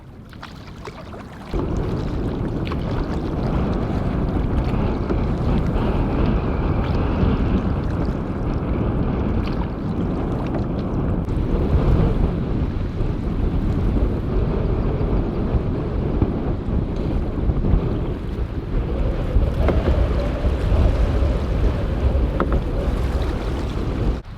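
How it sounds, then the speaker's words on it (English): Strong wind roars across a lake around a small boat, loud and continuous, with waves slapping the hull and gusts buffeting the microphone, and no one talking. "Man, this wind makes everything so much more intimidating."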